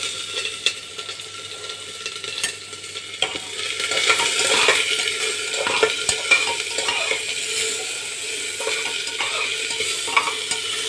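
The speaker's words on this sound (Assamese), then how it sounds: "পিঁয়াজটো ভাজি হোক।" Chopped onions fry in hot oil in a pan on a home stove, giving a steady crackling sizzle broken up by repeated scraping and stirring strokes, close and loud, with no talking.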